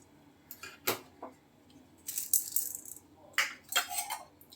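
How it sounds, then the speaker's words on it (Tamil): Dry urad dal dropped into a pan being prepared for a keerai dosai, giving several short crisp rattling bursts of grains striking metal with quiet gaps between them. "இப்போ உளுத்தம்பருப்பு சேர்த்துக்கலாம்."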